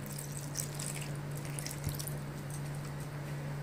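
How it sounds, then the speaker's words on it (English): Water poured into rava dosa batter of semolina, curd and salt, a soft steady trickle with faint splashes and drips, quiet and close, with no talking. "Going to add the water."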